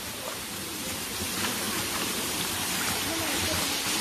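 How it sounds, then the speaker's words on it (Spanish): A waterfall on a Guatemalan river pours steadily, a dense continuous hiss of falling water that stays even and full throughout, with no clear voices over it. "Qué bonita esa cascada,"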